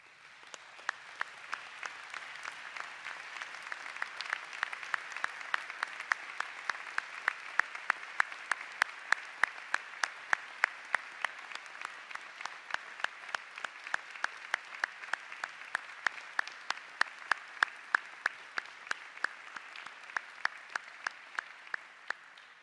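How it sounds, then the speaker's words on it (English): Sustained applause from a large university audience at an anniversary event, dense steady clapping throughout with some sharper individual claps standing out, no talk over it. "I'd like us, if partially just to reinvigorate the crowd, to stand up and thank them with an applause"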